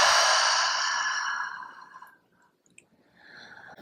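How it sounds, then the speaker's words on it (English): A deep exhale breathed out slowly and close, a long airy rush that fades away, followed by a quieter intake of breath. "Take a few deep breaths in and exhales out."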